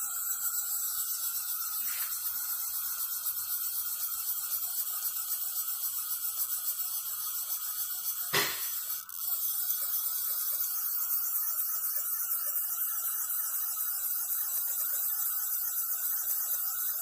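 A mill table travels along its X and Y axes with a steady, high whirring drive whine that runs throughout, broken by one short sharp click partway through.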